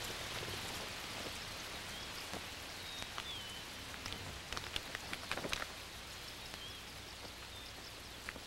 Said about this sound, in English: The rains have come from the south